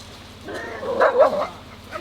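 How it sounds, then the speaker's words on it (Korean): At a rainy campsite, a dog barks at a cat with a brief, close burst of yelping, whining barks lasting about a second against quiet background noise. "고양이 있어서 짖나 봐"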